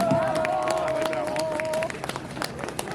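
An audience at a town ceremony marking restored city rights and the New Year applauds a performer with a dense, steady wash of clapping, a voice and a held tone sounding over it.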